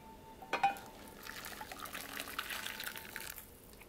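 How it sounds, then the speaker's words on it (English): Boiling distilled vinegar poured over a D2 tool steel knife in a pan: a sharp clink, then a steady liquid pour and sizzle lasting a few seconds, close and moderately quiet, no talk. "pour the boiling distilled vinegar over the knife"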